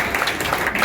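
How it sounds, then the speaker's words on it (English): An audience applauding at a bipartisan congressional open house on Capitol Hill, a short burst of dense clapping at moderate volume. "so let's give him a round of applause"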